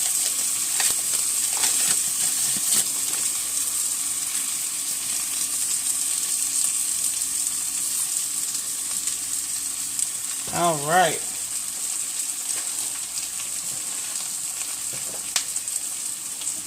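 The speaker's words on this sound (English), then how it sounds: "Y'all hear that popping along in there." Steady sizzling and crackling of a stick of butter frying in a pan, with scattered pops; a person briefly says something partway through.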